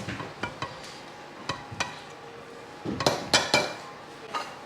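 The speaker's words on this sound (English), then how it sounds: "I'm just gonna stir up this rice." Cooked rice being stirred in a pot, with a spoon knocking and scraping against the sides in a handful of scattered clinks and taps, louder clusters toward the end, no talking.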